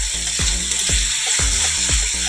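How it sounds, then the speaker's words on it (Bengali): Bengali fish curry, a spicy jhal, is sautéed and stirred in a pan, giving a steady sizzle broken by four regular, evenly spaced stirring scrapes, close and fairly loud, with no talking. "বন্ধুরা আর একটু কষাবো।"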